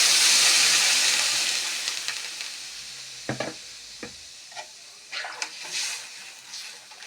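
Rohu fish pieces frying in a pan with taro, a broad hiss fading from loud to soft, then scattered sharp spatters and crackles over a quieter sizzle.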